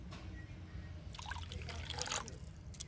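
Cooled boiled cow's milk trickles and pours steadily into a bowl of oil for an eggless wheat-flour sponge cake, a close, soft liquid stream that swells slightly midway with faint clinks, and no talk.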